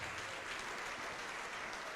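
A church congregation applauding, a dense, continuous wash of clapping hands from many people, steady and somewhat distant, with no talking.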